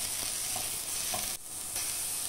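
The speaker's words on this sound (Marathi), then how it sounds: "फोडणीला घालायचा आहे एक छोटा मीडियम आकाराचा कांदा" Chopped small-to-medium onion hitting hot tempering oil in a pan, giving a steady close sizzle and crackle with a few stirring scrapes, no voices.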